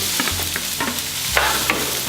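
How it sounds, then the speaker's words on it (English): Diced onions frying in a couple tablespoons of hot olive oil in a skillet, a steady sizzle with soft stirring scrapes, close and alone without talk. "Couple tablespoons of olive oil. Let that heat in the skillet. Your diced onions."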